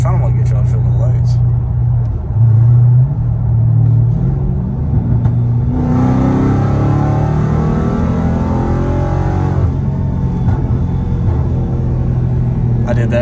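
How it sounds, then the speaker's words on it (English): A 2021 Dodge Challenger Hellcat in eco mode makes a hard pull. Its deep engine rumble swells into a louder, rising surge midway, then settles back to a low drone heard from inside the car. "Let me see if I can do a pull right here in eco mode."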